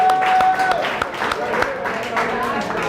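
An outdoor crowd at an athletics-department picnic claps and applauds for the organizers, steady applause mixed with talking voices over the short stretch.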